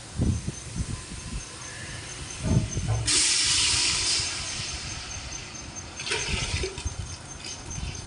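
Ginger-garlic juice hits hot oil with onions in a pan, setting off a sudden loud sizzling hiss that rises, holds for about two seconds, fades, then flares briefly again, with kitchen clatter before it.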